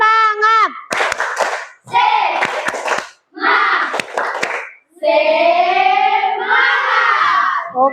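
Schoolchildren in a classroom performing a rhythmic spirit clap, with sharp sets of claps between loud shouted chanting voices, close and energetic.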